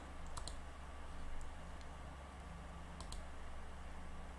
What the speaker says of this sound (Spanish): Si yo hago clic en más, tengo otros posibles tipos de efecto de transición